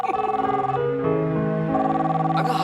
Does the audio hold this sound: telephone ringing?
yes